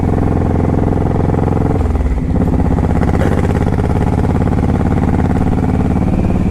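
Honda VTX 1800 cruiser motorcycle under way, its deep, steady engine drone loud and continuous, with a shift in pitch partway through as the revs change.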